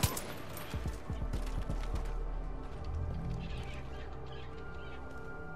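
Gunfire in a Far Cry 5 custom war map: a rapid cluster of sharp shots near the start, then a dense, steady roar of battle noise with scattered cracks continuing throughout.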